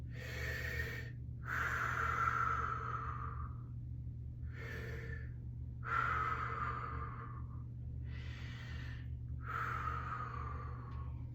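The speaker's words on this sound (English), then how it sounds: "Let's take a few mouth breaths just for fun." Several slow, audible breaths drawn and pushed out through the mouth during a guided breathing exercise, roughly five airy whooshes at a steady, unhurried pace over a constant low hum, close and clear with no talking.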